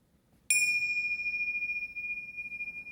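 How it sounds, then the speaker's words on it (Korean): A meditation bell is struck once in a quiet room and rings out with a bright, sustained metallic tone that slowly decays over a few seconds. "종소리와 함께 한번 해볼게요"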